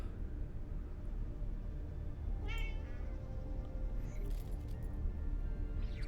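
A house cat gives a single short meow in the middle, faint and indoors against a steady low hum. A light metallic jingle follows soon after.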